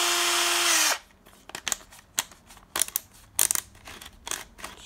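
A cordless drill-driver whirs loudly for about a second, then stops abruptly; several short bursts and clicks follow as it is switched to its second mode.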